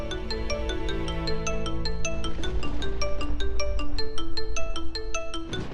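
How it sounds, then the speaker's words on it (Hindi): A melodic phone ringtone plays steadily for several seconds, bright repeating chimes over a low hum, with no talking. "मम्मा मिस्टर हैंडसम का फोन"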